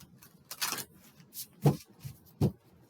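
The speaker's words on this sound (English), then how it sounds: "Do some shuffles here." Tarot cards shuffled by hand in a few quiet, close bursts of riffling and soft slaps separated by short pauses.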